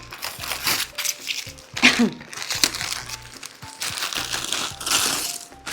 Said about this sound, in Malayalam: നമുക്ക് എന്തായാലും അൺബോക്സ് ചെയ്യാം